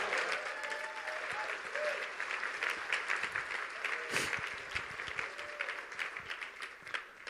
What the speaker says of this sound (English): Can I get a big round of applause for that?